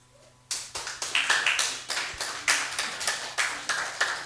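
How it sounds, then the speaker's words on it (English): A few people clap in a classroom, starting abruptly and keeping up an uneven, fairly quick rhythm of sharp claps that stays close and moderately loud with no voices over it. "Can you just make a clap?"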